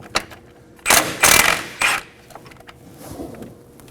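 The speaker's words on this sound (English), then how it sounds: "Using a 24mm wrench, we're going to go ahead and hold the nut. And with a 19mm socket, we're going to go ahead and loosen the bolt." A 19mm socket loosens a front suspension bolt on a 2016-2020 Kia Sorento while a nut is held during a camber kit replacement, giving three loud, close metallic ratcheting and creaking bursts followed by faint tool clicks and handling noises.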